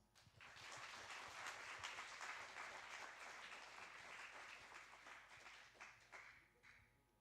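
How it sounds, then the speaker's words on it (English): An audience at an academic lecture event applauds, a sustained, dense round of clapping that swells quickly and tapers off after several seconds. "Please give them a warm round of applause."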